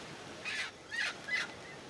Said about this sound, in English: There's guinea fowl or birds.